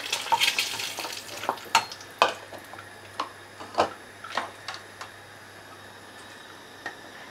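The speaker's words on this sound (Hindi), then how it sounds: "इसी तेल में अब हम आलू डाल के फ्राई करेंगे" Potatoes frying in hot oil in a pan, left over from frying eggs: a low steady sizzle with scattered sharp clicks and pops from a utensil, busier at first and thinning out, no voices.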